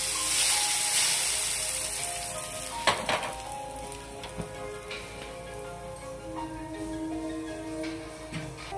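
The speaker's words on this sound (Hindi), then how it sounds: "सबसे पहले हम राई को डालते हैं और मिर्चा डाल के" Steady crackling sizzle of mustard seeds and chili frying in hot oil as a tempering for kadhi, with a few sharp pops and clinks from a utensil, no talking.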